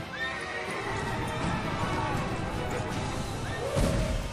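A horse whinnies near the start and again near the end, with hooves clip-clopping beneath a dense, steady background of clatter and noise.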